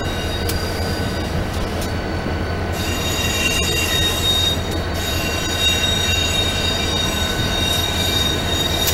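An Amtrak AEM7 electric locomotive on a Keystone train rolls past close by, wheels squealing steadily over a constant rumble of railcars, loud throughout with no voices.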